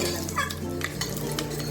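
Cashews and black grapes fry briefly in a pan, a close sizzle broken by quick stirring scrapes and light clinks of a utensil.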